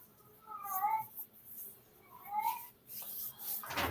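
A small child imitates a cat with two soft, whiny meows close by, separated by a short pause, then a rustling scrape.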